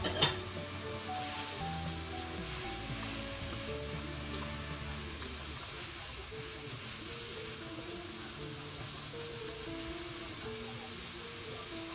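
Red peppers and chopped carrots sizzle in a pan, a soft, steady hiss that holds throughout after a small clink at the start, with faint tonal background sounds underneath.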